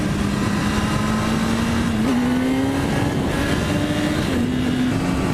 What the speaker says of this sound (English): I think this bike is louder on decel than it is when I come onto it.